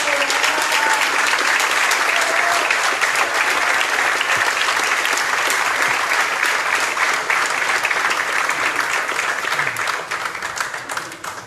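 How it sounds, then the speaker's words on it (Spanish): Loud sustained applause from a conference audience welcoming a guest, dense continuous clapping that holds steady and begins to fade at the very end. "un aplauso para la compañera"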